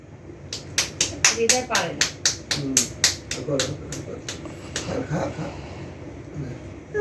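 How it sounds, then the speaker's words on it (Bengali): Hands clapping at a family birthday celebration for a father, a quick burst of sharp close claps in an uneven rhythm that thins out midway, with voices talking throughout. "হাততালি দে ভাই, হাততালি দাও, হাততালি দাও"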